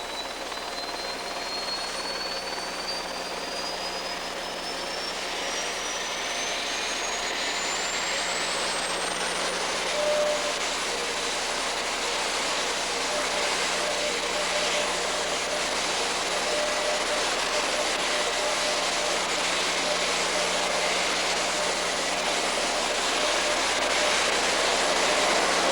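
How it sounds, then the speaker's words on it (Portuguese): A Navy helicopter lifts off at an outdoor military site, its turbine whine and rotor roar holding steady and loud throughout, with a rising engine tone climbing over the first ten seconds and the noise swelling slightly toward the end. "O helicóptero da Marinha que está decolando desloca o presidente da República, Luiz Inácio"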